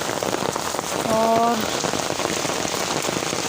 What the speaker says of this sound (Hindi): और कितनी ज़ोर की बारिश है